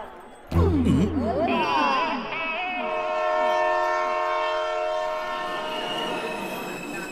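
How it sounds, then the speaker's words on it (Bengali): At a station, a train pulls in with a loud horn blast whose pitch sweeps and wavers, then settles into a steady sustained tone over the rolling rumble of the cars. "ট্রেন চলে এসছে।"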